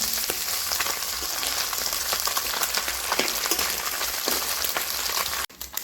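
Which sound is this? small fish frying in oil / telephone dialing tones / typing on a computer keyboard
small fish frying in oil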